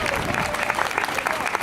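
A school audience at a back-to-school night applauds the staff, a dense, steady clapping from a crowd filling the room at full loudness.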